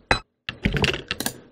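Unprocessed Bolt Lock 3 sample, a short series of sharp mechanical clicks and clacks: one isolated snap, a brief pause, then a rapid rattling cluster of metallic clunks, close and dry.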